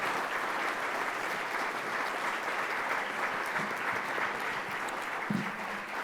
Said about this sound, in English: So how about another round of applause for Governor Mike DeWine.